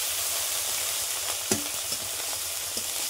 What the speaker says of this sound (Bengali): পুঁটি মাছগুলো এখন ভাজছি।